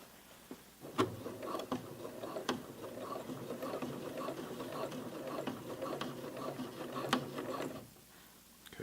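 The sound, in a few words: home sewing machine stitching a jeans hem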